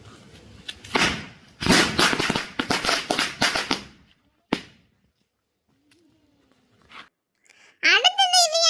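Several loud Diwali firecracker bursts crackle close by, then a single sharp pop, a quiet gap, and a whistling, rising firework sound at the end.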